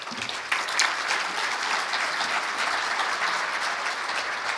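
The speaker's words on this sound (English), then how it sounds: "Let's give him a round of applause." Audience applause for presenter Ryan, a transportation planning expert, fills the hall: a steady wash of many hands clapping at moderate volume, even and unbroken throughout, with no voices over it.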